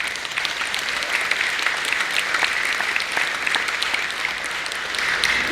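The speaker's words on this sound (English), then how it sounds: "one more round of applause for my faculty." Audience applause for faculty at a prison commencement ceremony at Thumb Correctional Facility: sustained, dense clapping from a sizeable crowd, steady and even for several seconds with no voices over it.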